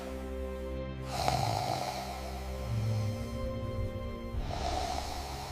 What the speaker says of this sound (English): Ignoring loud snoring, gasping, or mouth breathing.